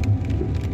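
Steady heavy rain falls in Jerusalem as a continuous close hiss of drops on surfaces, with no voices.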